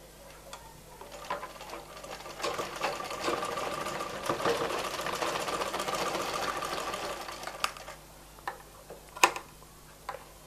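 A sewing machine stitches a baby frock, its motor running in one steady whirring burst of about five seconds with faint ticking before and after. No one speaks.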